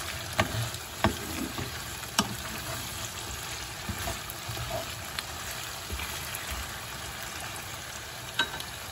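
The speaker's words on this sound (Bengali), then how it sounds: "আলুটা তাড়াতাড়ি ভাজা হবে।" Small pieces of salted potato fry in a pan with a steady, close sizzle, broken by a few sharp pops and spatters, with no talking.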